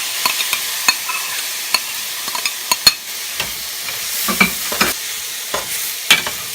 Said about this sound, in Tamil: தக்காளி போட்டு நல்லா மிக்ஸ் பண்ணிக்கோங்க